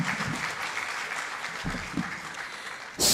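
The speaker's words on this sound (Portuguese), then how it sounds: "Mais uma salva de palmas." Audience applause after a political speech at the opening of the 11th parliamentary sessions of UNITA, steady dense clapping for about three seconds before a louder burst at the very end.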